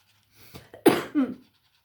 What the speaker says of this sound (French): Pardon si je tousse, hein, je suis bien prise encore.